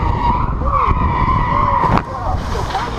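A car skids through a sharp turn with tires squealing loudly under a revving engine, a sustained screech with a sudden jolt near the middle, while people talk excitedly over it.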